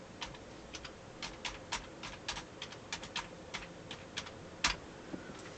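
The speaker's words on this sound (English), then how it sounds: "Type in making a video." Typing on a computer keyboard, a quick irregular run of light close key clicks with one firmer tap near the end, alone without talk.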